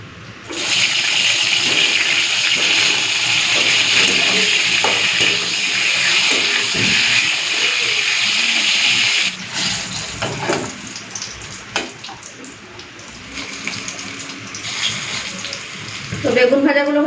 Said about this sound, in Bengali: চলুন এরপরে বেগুনটা ভেজে নিই।